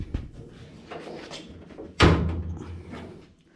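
A solid thunk of an early Ford Bronco's driver's door being shut lands midway, following quieter handling clicks and rustles, with a brief low resonance afterward.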